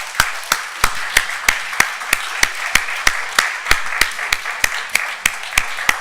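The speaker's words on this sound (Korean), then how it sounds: "우리 박수 한번 하도록 하겠습니다" Audience in a church hall clapping steadily, a series of even, sharp claps in quick regular rhythm, fairly close and moderately loud with no talk over it.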